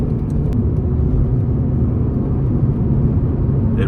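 A Honda Civic Type R FN2 drives along a mountain road, its engine making a steady, loud, continuous low rumble that holds evenly throughout with no talking.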